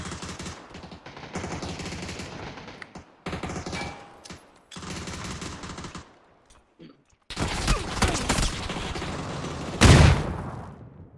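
Rapid automatic gunfire from PUBG Mobile crackles in dense bursts with short gaps, fairly loud and close, ending in a sharper, louder blast near the end, with people talking faintly underneath.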